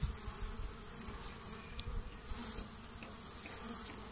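Dwarf honey bees swarm and buzz around their nest outdoors, a dense continuous drone of many wings at close range, steady throughout with no voices.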